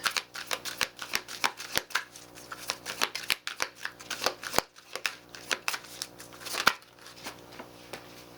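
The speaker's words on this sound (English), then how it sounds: "I'm going to pull a card from the Queen of the Moon Oracle" A deck of Queen of the Moon Oracle cards is riffled and shuffled repeatedly, crisp rapid flutters of card edges close by, with no talking.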